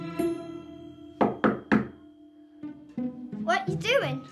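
Three sharp knocks on a door in quick succession, fairly close and loud, between stretches of a steady background hum, followed by a voice talking.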